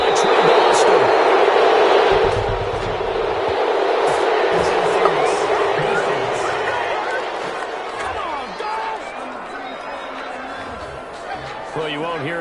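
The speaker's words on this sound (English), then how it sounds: "you won't hear any boos from this home crowd on that call" A home crowd in a football video game roars after an interception, a broad cheering swell under commentators' voices that fades gradually over about twelve seconds.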